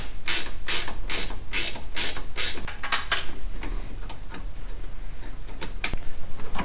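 Ratchet spinning a 10mm bolt on a heat shield bracket of a 2015 Subaru WRX STI: a loud, fast series of sharp clicking bursts up close, then slower, fainter clicks trailing off with one last snap.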